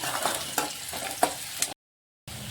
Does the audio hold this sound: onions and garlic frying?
yes